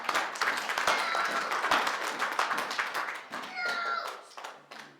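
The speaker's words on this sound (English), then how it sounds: "Can we give a clap of praise to our God?" A church congregation claps in praise during a worship service, a dense run of overlapping handclaps that keeps going for the full stretch, with a few voices and a child murmuring faintly underneath.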